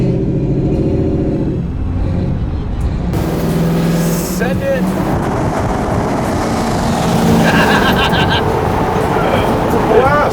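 A Jeep/Chevy Corvair 4x4 with a roughly 325-horsepower engine revs and pulls away, a loud, close engine roar rising and surging with tire and road noise, while a person calls out briefly over it.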